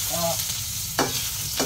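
Sliced ginger sizzles and crackles steadily in hot oil in a pan for cooking fish, with a couple of brief scraping stir strokes.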